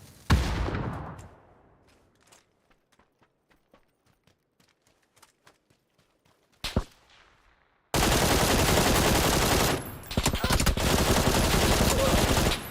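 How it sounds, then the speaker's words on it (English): Gunfire crackles in a console shooter game, a loud shot up front followed by a string of faint distant pops, one sharper crack, then a burst of dense noisy roar. "I felt like another shot came in from this way"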